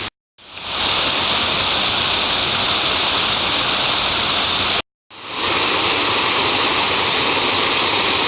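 Flint Rock Creek, the North Fork of Sycamore Creek among big granite boulders, runs high after a seven-year drought, a loud steady rush of water close by, broken once by a brief cut.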